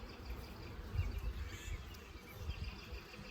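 Honeybees carrying pollen buzzing around an open hive box in early March: a faint, low, wavering hum of many insects, steady and close, with small swells in loudness.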